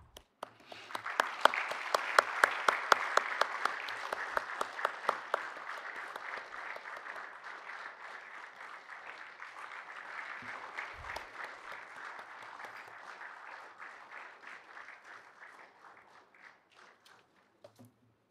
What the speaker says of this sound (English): We welcome our guest of honor with an applause and as he gets in